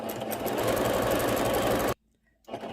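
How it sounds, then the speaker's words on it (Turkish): A sewing machine stitches the side seams of a ruffled pillow, a loud, steady close whir that cuts off abruptly, pauses for about half a second, then starts up again. "Şimdi şu iki kenarı dikiyoruz."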